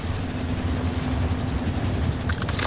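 A train in the Warzone video game rolls past in a steady, loud, continuous rumble, with a burst of clatter near the end.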